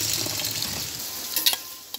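Rice being washed by hand in a bowl of water, close up: a soft, brief swishing and sloshing with a couple of small splashes.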